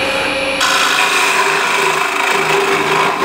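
A wood lathe spinning at about 1600 RPM hums steadily while a gouge cuts into the turning wood, giving a continuous, loud, close scraping roar with a tonal whine running throughout.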